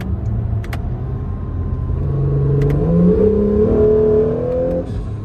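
A 2019 Acura NSX Sport Hybrid accelerating hard in Sport Plus mode, its engine note climbing in pitch and volume over a few seconds with a brief whine on top, heard from inside the car.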